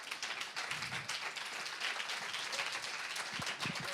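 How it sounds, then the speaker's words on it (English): A conference audience gives a round of applause as a speaker on five-star hospitality comes up to the stage. The clapping is dense and steady, moderately distant, and runs unbroken for the whole stretch. "a round of applause, everyone."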